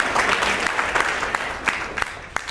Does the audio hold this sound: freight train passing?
no